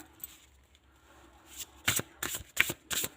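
A deck of cards shuffled by hand, a quick run of four or five crisp riffling bursts following a quiet start, close and clear, with no voices.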